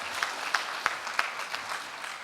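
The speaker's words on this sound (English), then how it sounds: "Another round of applause for that." Applause from a conference audience at the Africa Blockchain Conference, a steady patter of clapping with a few sharp, louder claps standing out near the front.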